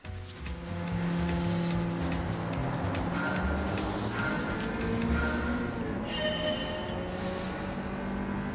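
Ford Roadster racing in Gran Turismo 7, its engine roaring loudly with tires squealing in long held tones, then easing as the car slows, continuous and close with no voices.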